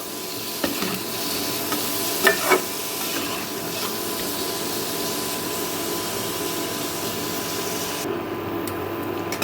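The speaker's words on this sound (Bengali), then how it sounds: "বেগুনগুলোকে হালকা করে একটু ভেজে নেব" Eggplant pieces lightly frying in hot oil in a pan, a steady close sizzle and hiss with a few brief stirring clicks partway through, no talk.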